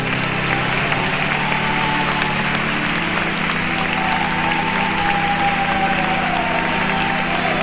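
A church congregation applauds loudly and steadily, a dense continuous wash of clapping from a large crowd with no talk over it.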